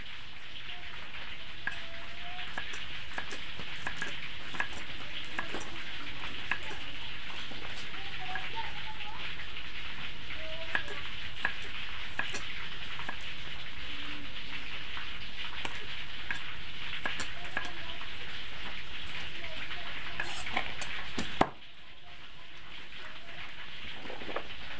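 Shallots being stir-fried in a pan make a long, even sizzle like rain on a surface, with frequent small clicks and scrapes of stirring and a sudden drop in level near the end.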